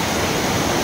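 The Chorchavdi waterfall at Dahivad, Deola pours in a steady, dense roar of rushing water, loud and unbroken throughout.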